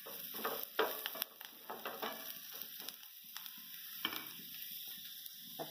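Okra fries in a pan as asafoetida, turmeric and coriander powder are stirred in, producing a quiet sizzle broken by irregular scraping and clinking stirs close by.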